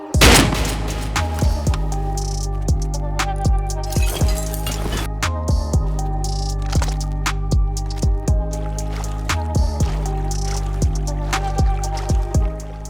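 Gunfire in the survival game Rust, with a series of sharp shots near and far over a dense, droning game soundscape, with no talk.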